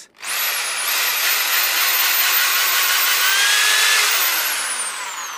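An electric drill spins a globe model mounted on its bit, giving a loud, steady high-pitched whine with a rising motor tone that runs continuously after a brief start, with no talking over it.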